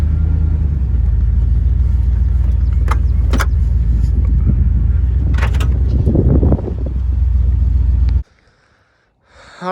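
A 1993 Chevrolet K1500 pickup idles rough and loud up close, a deep uneven rumble with a few sharp clanks over it, before the engine cuts off abruptly into near silence.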